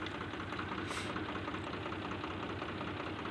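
Swaraj 735 tractor with a diesel engine sound problem, running steadily with a continuous rough, knocking drone at even loudness throughout, close by and with no talking.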